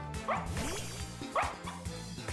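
A dog-like Pokemon's cry from the video game Pokemon Violet plays in two short yipping bursts separated by a pause, set against in-game background music.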